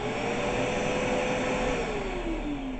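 A shop vacuum hooked to a bandsaw's dust port runs with a steady, loud broadband roar and a constant whine that drifts slightly lower in pitch, close and continuous with no talk.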